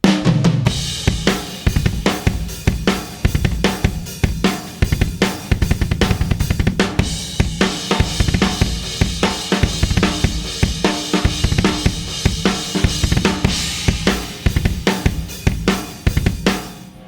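A full drum kit grooves steadily through the verse beat of a song, with punchy kicks and snares under constant bright cymbal wash, played alone for a long stretch.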